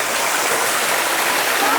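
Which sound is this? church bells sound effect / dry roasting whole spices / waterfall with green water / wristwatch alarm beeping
waterfall with green water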